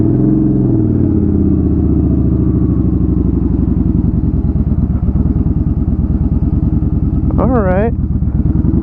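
A damaged motorcycle with no working foot brake, only a front brake, is ridden after a crash, its engine droning steadily and loudly throughout with wind buffeting; a person speaks briefly.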